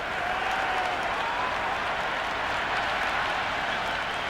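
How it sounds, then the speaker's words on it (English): Cheering cricket crowd in the video game Cricket 26, a broad steady roar of applause and crowd noise filling the stadium throughout, with no distinct individual voices standing out. "The crowd are really getting quite raucous"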